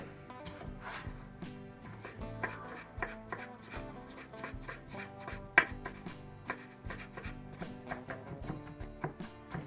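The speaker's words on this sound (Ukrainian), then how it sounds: "Огірочки квашені, ріжемо їх кубиками" A knife chops pickled cucumbers into cubes on a cutting board, many quick even taps in a continuous rhythm, close and moderately loud, with no talking.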